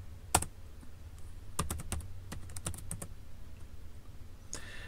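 Computer keyboard keys tapped while typing a terminal command on a Linux machine, a few quick irregular clicks in short bursts, close and fairly quiet, with no talking.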